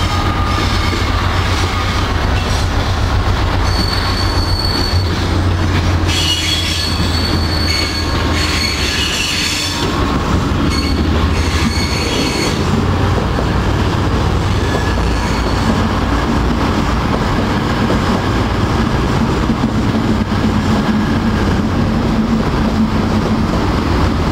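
Three freight locomotives pass by together on the rails, a loud continuous rumble of heavy diesel engines with rolling wheels, squealing steel and clanking wagons filling the whole stretch close at hand.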